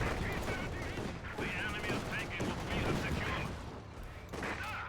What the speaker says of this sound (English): Rifles firing away, the Grenadiers return the favour, of course, with a lot more bullets